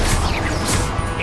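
A burst of crashing magical impact in the video game Hogwarts Legacy, from the Incendio fire spell, loud and dense throughout a short moment with no voice.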